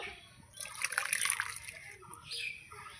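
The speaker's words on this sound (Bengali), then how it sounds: "এই যে ডালটা আমি আগেই বলেছি আমি সিদ্ধ করে নিয়েছি প্রেসারে, এবার দিয়ে দেব।" Pressure-boiled matar dal poured into a pot on the stove, a soft wet splash and slosh of liquid, faint and close, with a gentler trickle toward the end.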